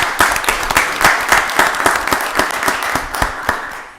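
Applause at a county board of commissioners meeting, a modest number of people clapping with distinct individual claps audible, steady and fairly close, tapering off.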